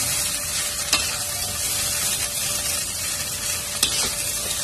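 Sausage and egg sizzle in a hot pan for kencur fried rice, a constant loud frying hiss with a couple of sharp spatula scrapes as they are stirred, no voices.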